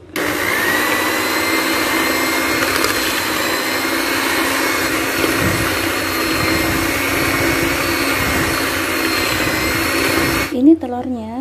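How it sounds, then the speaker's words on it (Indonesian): An electric mixer whirs loudly and steadily close by as it beats eggs with sugar and vanilla, a continuous motor drone with a steady whine, stopping near the end. "gula, dan vanili. Ini dikocok selama 5 menit."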